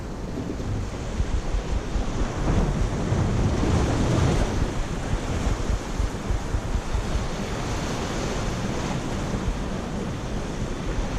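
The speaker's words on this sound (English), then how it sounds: "I have seen some nasty swell come through here at times. In fact, there's a set that looks like it's coming through now." Ocean swell rolls in and breaks into a small bay while squid fishing, a steady broadband wash of surf mixed with wind buffeting the microphone that peaks briefly partway through.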